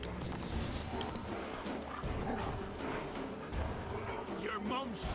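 Wolf in Witcher 3 gameplay barking and yipping in short bursts amid game music and effects, with someone talking over much of it.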